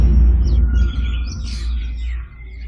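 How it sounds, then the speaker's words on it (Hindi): Birds chirping at dawn, several faint high calls and tweets scattered over a steady low rumble, fairly distant and sparse, with no voices. "चिड़ियों के चहचहाने की आवाज से पता चला कि सवेरा हो चुका है।"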